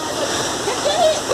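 Waterfall beside a quiet, easily reached forest trail, a steady broadband rush of falling water heard close and continuous, with a few faint voice fragments over it.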